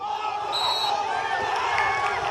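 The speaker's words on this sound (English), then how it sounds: "You can really hear the crowd." Crowd at a girls' soccer playoff game, a dense distant rumble of voices and shouts with a few whistle-like tones and squeaks, steady and moderately loud.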